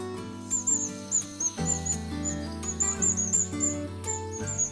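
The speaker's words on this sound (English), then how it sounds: "Discovering the black-rumped waxbill." Black-rumped waxbills, small red-masked estrildid finches, give repeated high, thin chirps in quick bursts over steady background music.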